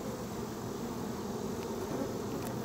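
Honey bees swarm around an open hive during a honey harvest with a dense, continuous buzzing hum. The sound is close and steady, with no voices.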